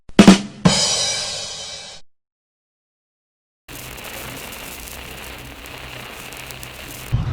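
Water sprays hard onto a car during washing, a loud hissing burst that stops for a silent gap, then returns as a steadier, quieter spray.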